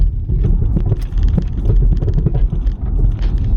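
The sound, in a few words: car driving on the road towing a trailer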